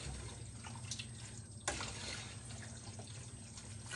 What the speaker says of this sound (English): I'm stirring the macaroni.